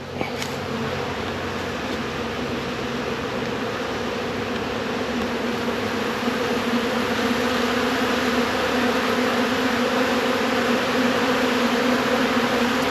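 Honey bees robbing a hive during a honey harvest, with bees fighting to get in: a dense, steady, close swarm drone that fills the whole stretch without a break and with no voices.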